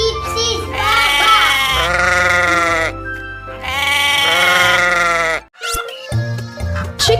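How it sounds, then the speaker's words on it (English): Sheep bleat in two long, loud, wavering calls close by, followed by shorter sounds over a quiet musical backing. "Sheep says baba."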